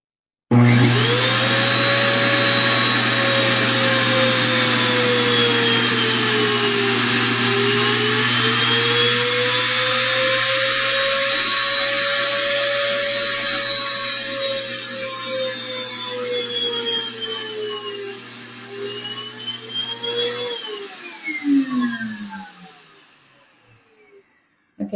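A Jetta bathtub air blower runs in wave mode, a loud, steady whirring hum that rises and falls slowly in pitch before it winds down and stops.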